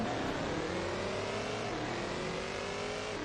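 Game car engine in Car Parking Multiplayer revs hard and steadily climbs in pitch, loud and continuous with no talk.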